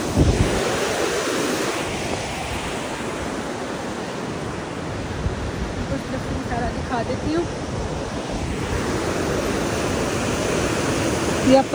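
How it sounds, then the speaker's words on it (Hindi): River water rushes loudly and continuously past a landslide-strewn stony bank on its way to the sea, a dense roar mixed with wind buffeting the microphone. "पानी का बहाव चेक करें"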